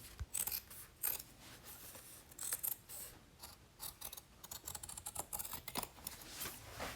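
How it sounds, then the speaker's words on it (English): Scissors cutting a seam out of thrifted jeans, a close run of crisp repeated snips and fabric crunches, irregular and steady, with no talk. "I'm just cutting this seam out so it won't be so hard to sew through"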